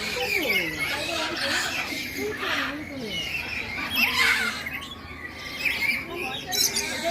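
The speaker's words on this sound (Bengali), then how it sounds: "পাখিটার নাম হচ্ছে লরি।" Lory parrot in a cage at a small zoo giving scattered squawks and chirps, fairly faint, mixed with people talking nearby.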